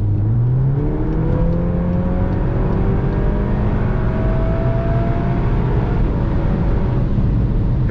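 A loud Volkswagen Golf 8 R engine revs hard, its pitch climbing and dropping through several rapid gear changes in quick succession.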